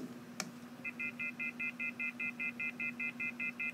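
Touch-tone keypad beeps in the horror game The 3rd Night: a run of about fourteen evenly spaced dial tones over a low steady hum, after a single sharp click.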